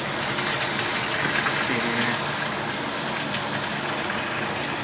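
Gasoline gushing steadily from the fuel tank of a 1969 Camaro through a supply line into a container, a loud continuous rushing pour with no pauses and no talking.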